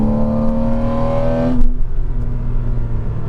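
A 2006 Porsche 987 Cayman S flat-six pulls hard with a steady rising drone, then the revs drop suddenly partway through and the engine settles into a lower, rougher rumble, loud and close.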